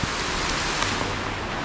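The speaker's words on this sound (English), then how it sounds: "it'll stop raining about then probably" Steady rain falls during a hike on the Cades Cove Loop in the Smoky Mountains, a dense, even wash of patter close around, with no voices.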